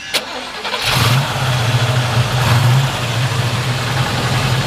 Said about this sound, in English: we'll go ahead and fire this one up for you.